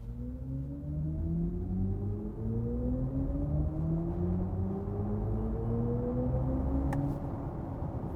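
A 2022 BMW iX3 electric SUV accelerating hard from a standstill toward 100 km/h, its electric motor whine rising steadily in pitch over several seconds under a constant rush of tyre and road noise from inside the cabin.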